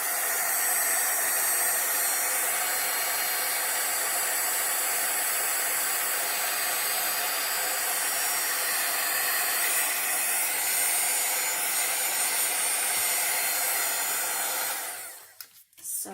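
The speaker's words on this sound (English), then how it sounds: "I'm going to bring out my heat gun. I apologize for the noise" Heat gun blowing hot air onto a mixed-media coffee stain collage: a steady loud roaring hiss that runs unbroken for about fifteen seconds, then cuts off abruptly.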